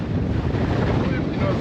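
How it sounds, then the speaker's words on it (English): Strong, steady wind roars and buffets across an ocean liner's open deck, with a rushing, broadband howl and faint water wash beneath. "let's just say it's a wee bit windy out here"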